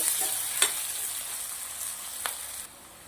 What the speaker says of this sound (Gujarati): ડુંગળી આપણી સરસ મજાની સંતરાઈ ગઈ છે